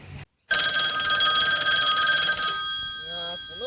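After a brief voice and a pause, a loud electronic telephone ring sounds continuously for two seconds, then a voice begins speaking.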